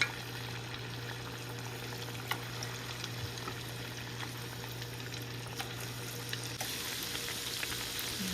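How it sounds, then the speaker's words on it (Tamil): Beetroot paniyaram frying in a pan, a steady soft sizzle and crackle of oil running throughout, fairly quiet and close with no talking. "பீட்ரூட் பணியாரம் போட்டாச்சு இது நல்லா பொரியவிட்டு எடுப்போம்"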